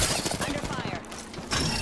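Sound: gunfire in Apex Legends video game

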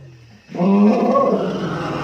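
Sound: elephant calling

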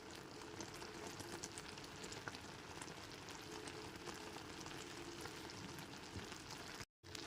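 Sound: spiced raw mango pickle cooking in a pan

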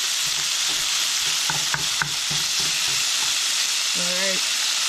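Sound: bacon frying and being stirred in a pan

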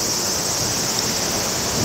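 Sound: cicadas buzzing loudly outdoors

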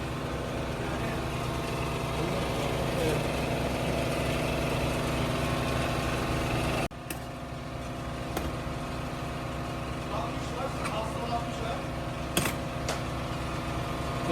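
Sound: 50cc scooter engine started and idling

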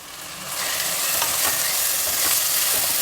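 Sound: rice and lentils roasting in tempering

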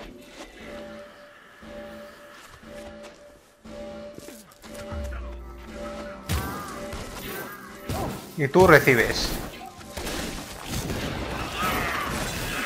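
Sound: explosions in the video game Infamous Second Son

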